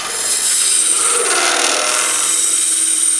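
A homemade scraper shaves wood on a spinning lathe, producing a steady, close, hissing scrape with a faint whine that holds evenly throughout, with no talk.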